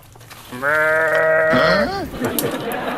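A goat on a farm being fed organic feed lets out one long, loud, close bleat with a wavering, quavering tail, followed by scattered softer rustling sounds.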